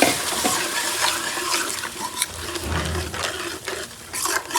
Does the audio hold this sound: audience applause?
no